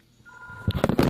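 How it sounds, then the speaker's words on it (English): A telephone rings in a home kitchen while waffles are being made. A steady electronic tone starts softly, then louder clattering bursts build up over it. "Phone."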